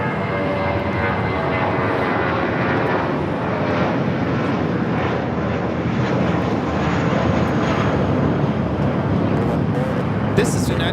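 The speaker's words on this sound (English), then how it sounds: "This is United Airlines 319 taking off to Puerto Vallarta on the A320." A United Airlines Airbus A320 jet takes off from Los Angeles International Airport bound for Puerto Vallarta, a loud, continuous broadband engine roar filling the whole stretch at close range.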